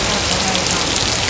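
Steady heavy rain pours down in a Gujarati village near Botad, a dense, even hiss of drops on surfaces that holds constant and fairly loud throughout, with no voices.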